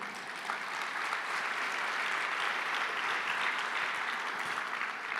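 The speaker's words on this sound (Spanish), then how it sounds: "Dele un aplauso al Señor." Steady applause from a church congregation at a Sunday service in Cali, a dense, even wash of clapping that fills the room without pause and carries no talk over it.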